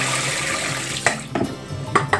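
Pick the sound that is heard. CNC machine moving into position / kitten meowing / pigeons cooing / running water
running water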